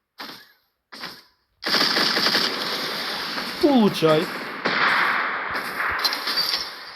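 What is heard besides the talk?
gunfire in a video game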